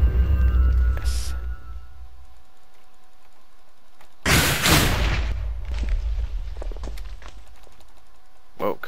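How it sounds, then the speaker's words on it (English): Minecraft explosion: a sudden loud burst blasts in at mid-clip and rumbles for about a second, standing out against quieter game sounds and scattered clicks. "A little bit of an explosion."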